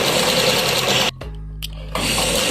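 Sewing machine top-stitching the front of a blouse, a loud close whirring run that cuts out briefly to a low hum before starting again.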